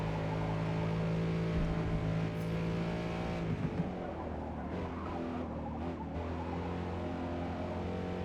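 Racing cars in Forza Motorsport drone with steady engine tones, then tires chirp and squeal briefly as engine pitch shifts, continuous and fairly close with no talk.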